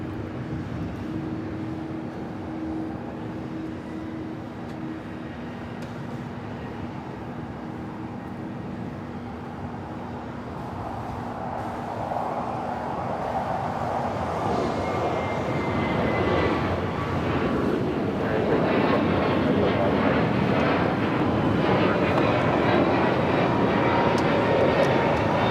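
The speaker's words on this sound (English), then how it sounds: "We have an All Nippon Airways Dreamliner rolling on 24 left." An All Nippon Airways Boeing Dreamliner rolls for takeoff on runway 24 left, its engine roar swelling from a distant whine to a loud, broad rumble that keeps building to the end.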